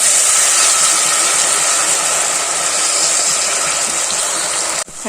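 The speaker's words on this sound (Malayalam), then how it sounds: "ഡീപ് ഫ്രൈ ആണ്." Cauliflower pakoda deep frying in hot coconut oil makes a loud, dense, unbroken hiss that carries on steadily and cuts off abruptly near the end.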